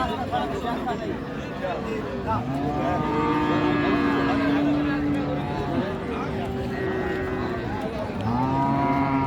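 Sahiwal cows, some with calves, moo in several long, drawn-out calls at Raniganj cattle market in Dinajpur, nearby and loud, while people talk continuously in the background.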